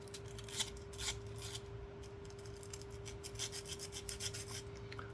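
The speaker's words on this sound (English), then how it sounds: "This is just very, very fine sandpaper." A 1977 Danish 25 øre coin being rubbed with very fine sandpaper, giving a soft, close rasping scrape in quick repeated strokes over a steady faint hum.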